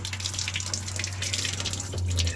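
Water from an RV faucet, flowing again after frozen pipes were thawed with a hair dryer and the pump switched on, runs in a steady splash over a low, constant pump hum.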